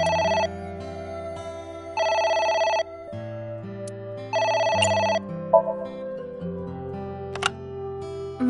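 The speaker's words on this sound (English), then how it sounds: "It's the phone. Maybe try picking it up?" A telephone rings in repeated bursts, its loud bright electronic trill sounding roughly every two seconds over a low background music bed, with short gaps and small clicks between rings.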